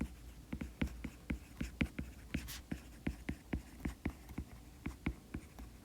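Writing on a board, a steady run of sharp taps and short strokes at an even rhythm, close and clear, with one longer squeaky stroke.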